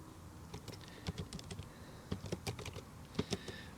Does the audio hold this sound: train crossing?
no